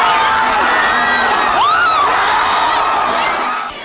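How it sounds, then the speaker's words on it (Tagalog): A crowd of De La Salle basketball fans celebrating a championship win on Taft Avenue cheers and yells loudly and continuously, with high whoops and shouts rising above the roar before it fades slightly at the end. "Kasabay ng pagkapanalo ng Archers ang walang humpay na hiyawan ng mga taga-Lasal sa Taft Avenue."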